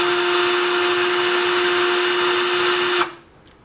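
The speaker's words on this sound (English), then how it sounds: "just simply hit the fire button on the drill and give her a twist" A power drill whines loudly and steadily for about three seconds, twisting wire for a fused Clapton coil, then cuts off and spins down to quiet.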